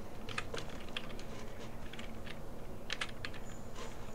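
Someone types steadily on a computer keyboard, with close, rapid key clicks in an even rhythm and a few louder strikes, and no talking.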